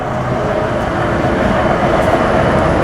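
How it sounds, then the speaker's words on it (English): Natural-gas-powered 16th Street free mall ride bus in Denver, a steady moderate engine rumble and hiss as it passes nearby, growing slightly louder. "So that's the bus that takes you up and down"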